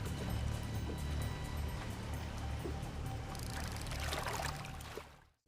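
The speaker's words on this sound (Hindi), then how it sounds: "इनसे जो लहरें टकराती हैं वो बीच में टकराकर वापस चली जाती हैं" River water surging and splashing against a rocky outcrop with stones below, a steady dense wash of broadband noise that swells brighter near the end before cutting off abruptly.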